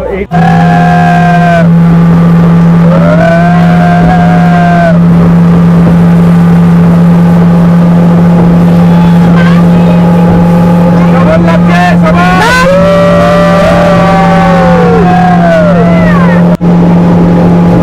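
A motorboat carries passengers to an island at Patratu Valley in Jharkhand, its engine a loud, steady droning hum throughout, with voices rising and falling over it.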